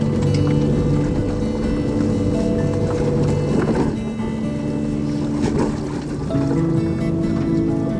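A 4WD vehicle grinds over Simpson Desert sand dunes on the French Line, its engine a close, steady droning hum with strong tonal harmonics that dips briefly midway before building again.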